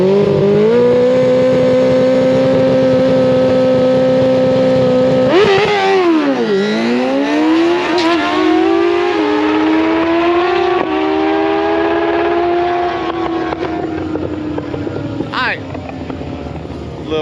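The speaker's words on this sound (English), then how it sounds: "The bike done the shifting like it was supposed to on that there." Drag motorcycle at Tulip making a full pass, engine revving loud and steady, then dropping sharply as it shifts and climbing again through further gear changes, with wind rush over the mic as it pulls away.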